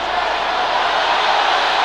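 A cricket stadium crowd reacts to a run-out of a West Indies batsman, a steady, dense roar and murmur of many distant voices that holds at an even level throughout without a break.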